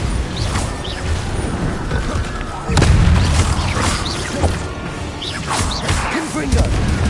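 Bombarda spell blasting in Hogwarts Legacy, a loud booming impact at about three seconds amid continuous combat crashes, whooshes and clatter, with a voice calling out through the action.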